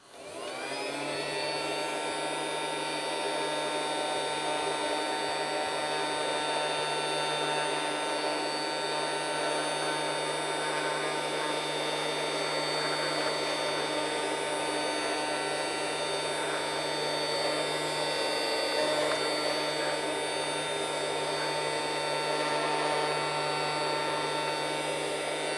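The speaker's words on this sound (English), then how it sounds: "I'll pop this back in the toy Dyson and we'll finish the video by hopefully picking up all this dirt one more time." A Casdon Little Helper toy Dyson DC25 vacuum cleaner runs continuously while picking up dirt, a steady close whine with a low hum and no pauses or talk.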